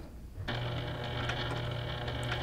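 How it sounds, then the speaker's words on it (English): A sewing machine starts up and runs steadily while stitching diagonal seam tape, a close, even mechanical whir with a rhythmic motor hum and faint clicking, alone without talk. "And then we're going to be ready to sew."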